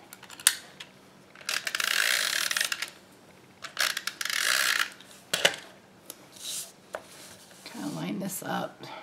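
Snail adhesive tape runner pressed along cardstock for a Valentine's card, giving several short rasping, ratcheting rolls with small clicks and handling noises between them, close and fairly quiet.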